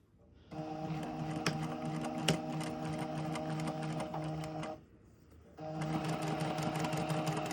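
A sewing machine tacks down fabric pleats with a faint but steady mechanical hum and rapid stitching clatter. It runs for about four seconds, stops briefly, then starts again, with no voices.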